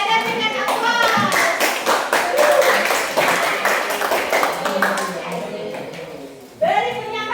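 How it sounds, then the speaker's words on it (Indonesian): A classroom group of students applauds another student group, a steady patter of many hands clapping at moderate distance, fading toward the end before a brief voice cuts in. "Oke, kalau nggak ada berikan aplaus."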